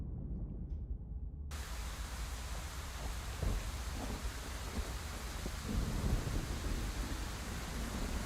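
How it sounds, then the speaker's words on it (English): Heavy rain hisses steadily with deep rolling thunder in the video game Scarlet Hollow, a dense, loud wash of storm noise that swells partway through, with no talking. "You're outside. It's raining."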